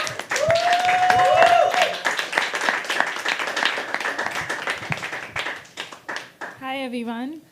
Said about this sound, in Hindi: तालियां बजाते शुरू करिए